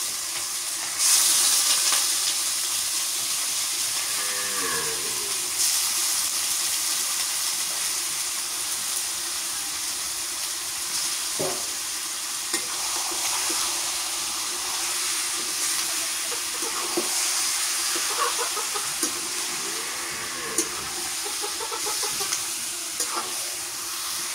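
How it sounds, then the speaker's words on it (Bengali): Beef pieces sizzling and hissing in hot oil while being stirred, a steady loud frying hiss throughout with occasional scraping and clinking strokes of the stirring spoon against the pan. "এখন গোস্তটা দিয়ে দিই তেলানির মধ্যে গোস্তটা নাড়া করা হইল ভালো করে"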